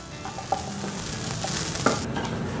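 Grated coconut frying in a pan with shallots, curry leaves and four dried chillies for a roasted-coconut chickpea curry, a steady close sizzle with a few soft stirring scrapes and clicks.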